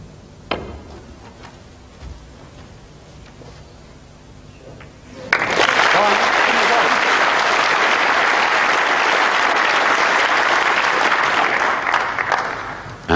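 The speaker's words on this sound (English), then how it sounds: "And that one applauded by Stephen Hendry" A snooker crowd at a 1991 UK Championship semi-final bursts into loud, sustained applause after a quiet stretch with a few faint clicks, the clapping holding steady for several seconds.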